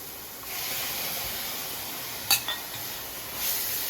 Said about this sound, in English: Just saute this for a while.